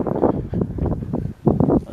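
Gusty wind buffets the microphone outdoors in uneven, rumbling bursts with a brief lull midway, loud and close.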